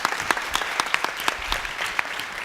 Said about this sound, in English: And a big round of applause for Simple Energy.